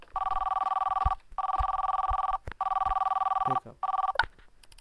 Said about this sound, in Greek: Someone's calling.